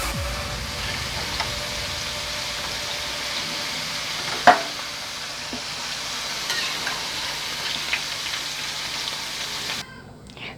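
Vegetables sizzle steadily in hot oil in a home kitchen, a soft, continuous frying hiss with one brief clink of a utensil, running without speech until it cuts off near the end.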